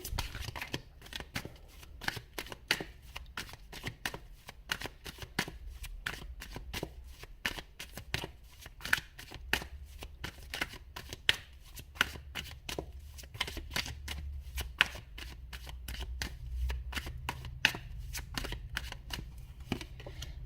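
Tarot cards shuffled continuously up close, a dense rapid stream of crisp flicking and riffling snaps that runs evenly throughout.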